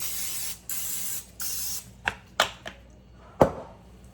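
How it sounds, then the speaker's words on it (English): Several short hissing sprays of aerosol cooking oil into a metal muffin tin, followed by a few light metallic clicks and taps, close by. "I'm just go ahead and spray the oil in there so it doesn't stick."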